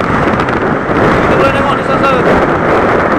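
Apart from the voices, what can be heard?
strong wind blowing at the end of a jetty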